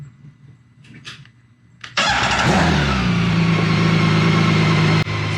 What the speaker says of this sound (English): crank up the bike